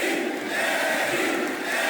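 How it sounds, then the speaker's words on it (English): A capacity arena crowd in the WWE SmackDown vs Raw 2008 wrestling video game roars steadily, a dense, continuous wall of cheering and shouting with no break. "This capacity crowd is making their opinions heard tonight."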